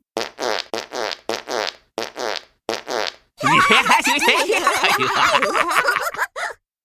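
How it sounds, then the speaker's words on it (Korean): Cartoonish fart sound effects in a children's bedtime story: six short, evenly spaced puffs, then a long, rippling, sputtering blast mixed with giggly tones, loud and close. "끊일 줄 모르는 줄방귀 소리에"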